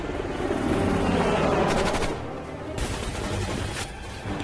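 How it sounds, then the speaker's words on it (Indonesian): Helicopter gunfire in a war film scene, a dense roar of rotor noise and rapid bursts of shots raining down on soldiers, loud and sustained, easing slightly halfway through. "sebuah heli datang lalu tiba-tiba kemudian menghujani mereka dengan tembakan"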